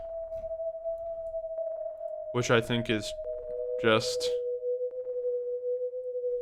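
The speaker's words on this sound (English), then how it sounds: "this is just a sine wave with lo-fi oddity" A steady EQ'd lo-fi sine wave synth tone holds throughout, slightly lowering in pitch partway, with a person speaking over it in two short bursts.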